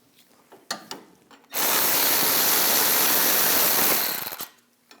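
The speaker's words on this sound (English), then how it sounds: "Now take these two caliper bracket bolts out, use a 18mm socket," An 18mm socket on a power tool loosens the caliper bracket bolts on a 2015-2022 Chevrolet Colorado's rear brakes, a few clicks and then one loud steady whirring burst of about three seconds.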